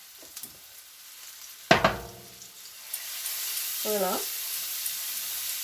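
Garlic paste hits a hot pan with a sharp sizzle, then settles into a steady frying hiss that builds slightly; a brief knock and a short spoken word come through close by.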